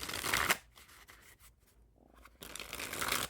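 Theory11 Outkast playing cards are riffled twice, close and crisp, with a quick ruffling burst at the start, a quieter pause with light handling, then a second fuller shuffle at the end.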